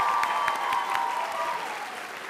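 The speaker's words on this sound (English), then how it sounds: "Big round of applause." At a board of education meeting, the audience applauds FBLA participants and advisors with a steady burst of crowd clapping that gradually tapers in loudness, a faint tonal hum running beneath it.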